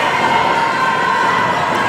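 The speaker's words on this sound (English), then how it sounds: "Crowd getting into it for the Highlanders." Spectators at an 8th grade boys' basketball game cheer and shout loudly in a gym during a tense final seconds of the fourth quarter, a sustained dense roar of voices including children's yells.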